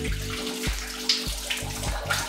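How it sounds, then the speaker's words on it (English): Running water flows steadily as hands are washed under a tap, with a few louder splashes and shifts in the stream, all close by and no talking. "So I'm gonna wash my hands first."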